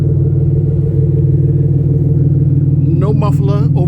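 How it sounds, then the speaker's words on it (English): A Grand Prix GTP fitted with a 3-inch straight exhaust and a custom dual-tip muffler rumbles at a steady idle, loud and close, with a person starting to talk over it near the end. "3-inch exhaust all the way straight from the front to the back with a custom dual tip muffler"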